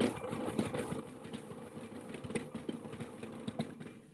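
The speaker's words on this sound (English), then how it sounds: "he is going to shake one of the Christmas trees" A Christmas tree shaker on a tree farm clears dead needles, grass clippings and snow from a tree, a steady mechanical rattling drone with rapid thumping vibration, close and moderately loud, running alone without talk.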